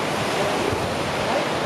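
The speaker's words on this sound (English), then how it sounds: "Another beautiful beach here in Vietnam." Waves wash steadily onto a beach in Vietnam, a close, continuous roar of surf mixed with wind buffeting the microphone.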